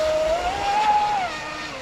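An RC speedboat powered by 6S SRD battery packs runs wet, a steady motor whine with a rising tone over water hiss, moderately near and loud.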